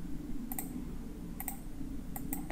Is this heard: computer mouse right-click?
yes